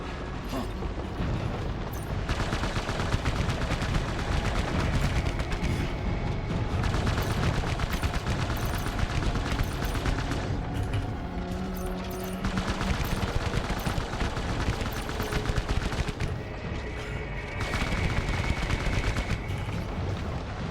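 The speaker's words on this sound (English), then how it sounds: "Finish off with the old shotgun." Gunfire in the video game Death Stranding, a shotgun among the shots, as dense continuous blasts and booms fill the whole stretch with no pause, loud and busy throughout.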